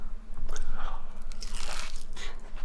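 Crunching bites into crispy Korean fried jeon, eaten with squid jeotgal at a gukbap restaurant, several loud close crisp crunches in quick succession with no talk.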